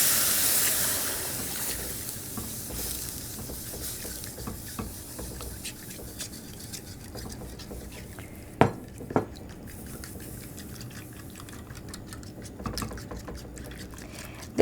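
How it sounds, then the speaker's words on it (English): Milk poured all at once into bacon gravy in a pan while it is stirred fast, giving a steady wet sloshing with scraping and a few sharp utensil clinks against the pan, close and alone. "you're going to add your milk, and you're going to add it all at once really fast while you stir your gravy"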